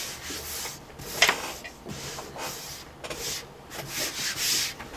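Trimmed wire strands being wiped and swept off a desk during a laptop power jack repair: close, soft rubbing and brushing strokes in irregular bursts, with one sharper scrape partway through.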